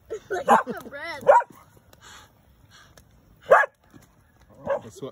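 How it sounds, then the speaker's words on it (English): Dog barking and yipping outdoors near a campfire at a creek, a few sharp barks and whiny yips spaced irregularly, with people talking over and between them. "that's what my dog does"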